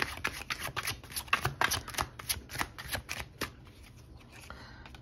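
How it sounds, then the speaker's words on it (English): Tarot cards shuffled by hand in a steady run of quick riffling flicks, close and fairly loud, with no voice over them and the flutter thinning out near the end. "Let's get a couple more cards here."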